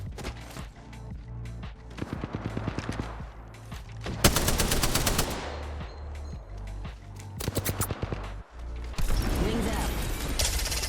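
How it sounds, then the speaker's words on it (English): Shields charging amid bursts of automatic gunfire in Apex Legends Arena, with loud close shooting, mechanical whirring and ratcheting, and a player's voice talking over parts of it. "Charging my shields."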